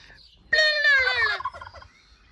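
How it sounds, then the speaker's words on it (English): A single loud turkey gobble in a garden, a rapid warbling burst lasting about a second, close by, followed by faint quieter trailing calls. "there's big fat turkey. She is just hanging in the garden."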